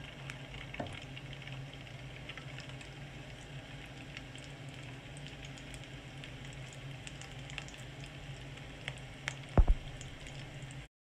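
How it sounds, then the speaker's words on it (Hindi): Kebabs frying one at a time in hot oil over low heat, a steady, soft bubbling sizzle that carries on evenly throughout, with a few faint clicks and a brief sharper knock near the end. "तेल हमारा गर्म हो चुका है। हम एक एक करके कबाबों को फ्राई करेंगे।"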